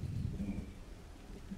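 Rain and rumbling thunder in an audio drama, a low thunder roll over steady rainfall, fairly quiet and without voices.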